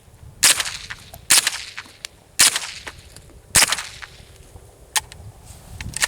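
Smith & Wesson M&P 15-22 rifle firing outdoors, six sharp cracks spaced about a second apart with brief echo tails, moderately close.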